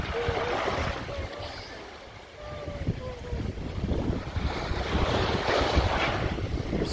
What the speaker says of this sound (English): right out there is the Atlantic Ocean